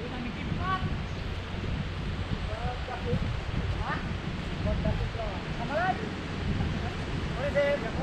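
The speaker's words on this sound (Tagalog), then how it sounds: "Mahangin." Strong wind in Palawan rumbles and buffets the microphone throughout, with snatches of voices talking faintly beneath the roar.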